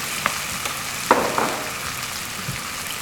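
Chopped ripe tomatoes, 450 grams, fry in a pan for sweet tomato chutney, giving a steady hiss with a few sharp pops and spatters and no talking.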